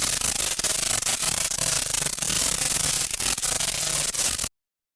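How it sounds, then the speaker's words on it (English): Flat, dense noise crushed by heavy compression and limiting for an Overwatch 2 sound redesign, a loud, gritty scraping roar with slight rhythmic pulsing that holds at a constant level for several seconds, then cuts off abruptly to silence. "modulate it and then just compress and limit it to death until it's essentially just like flat noise"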